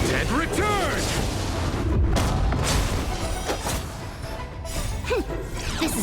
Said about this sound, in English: From the boat! Cannon!